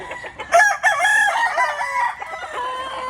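Gamefowl roosters crow loudly and close by before their morning feeding, one long drawn-out cock-a-doodle-doo with other birds faintly behind it, and no talking.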